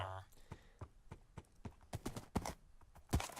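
Hooves clip-clop in Minecraft as a horse steps along, a steady series of sharp, fairly close clacks that quicken and grow louder toward the end, with a brief tonal game sound at the start.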